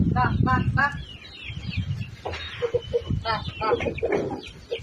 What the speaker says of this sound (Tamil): இப்போ நம்மள்கிட்ட இருக்க இந்த சேவல் பாருங்கள் பெருவடை சேவல் பாருங்களேன்